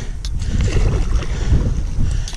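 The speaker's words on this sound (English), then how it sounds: "The wind completely flipped on me." Wind blows hard across open water at a Texas fishing spot, a steady low rumble of gusts buffeting the microphone with faint water sounds underneath.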